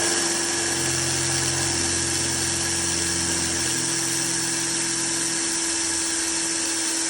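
Power drill boring a hole with a drill bit slightly larger than 1/8 inch into an RC trailer part, a steady whining drone that holds at a constant pitch throughout, close and alone with no talk.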